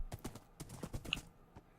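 Horse hooves clip-clop in the Minecraft video game, about a dozen quick, quiet thuds in an uneven trotting rhythm, close and faint with no talking.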